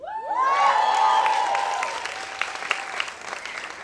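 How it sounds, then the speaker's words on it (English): Audience at a comedy show claps and cheers loudly, a dense wash of applause with whoops that swells early and then tapers off into scattered claps. "I don't know what you're clapping about."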